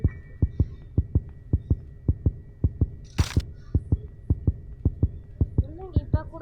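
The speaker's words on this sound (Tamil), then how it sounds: "என்னங்க இப்போ கூட குறையில ஹார்ட் பீட்." Heartbeat sound effect in the Granny Car Escape video game, a steady, loud, low thumping pulse of around three beats per second, with a brief noisy burst partway through.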